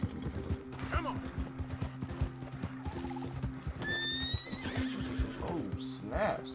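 A horse in the Red Dead Redemption 2 video game whinnies loudly while hooves clip-clop at a gallop, with game sounds and a voice talking throughout.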